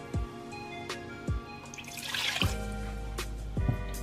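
Water drips and splashes into a pot holding melting butter in a few separate plops, followed by a short stretch of pouring, fairly close and moderately quiet.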